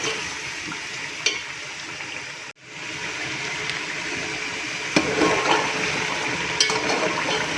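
Chicken being roasted in a pan for biryani gives a steady, loud sizzling hiss with a brief scrape or stir partway through and a few clatters, close up with no talking.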